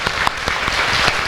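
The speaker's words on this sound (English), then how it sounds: "Just a round of applause, please." Dense applause fills a hall during a Buddhist teaching event with a rinpoche after a silver-plated thousand-arm Chenrezig offering, steady clapping with a few sharper claps standing out, loud and close throughout.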